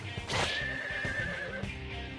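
A horse neighs in the role-playing video game Digital Devil Saga, a loud, shaky whinny lasting about two seconds and set against busy in-game sound and music.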